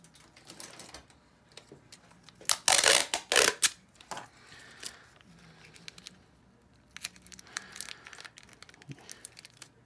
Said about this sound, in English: so I'll add some tape on them